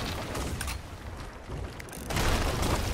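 Cannon fire during a pirate ship battle in Sea of Thieves, with rumbling booms and bursts that swell into a louder blast near the end, heard at moderate distance and without speech.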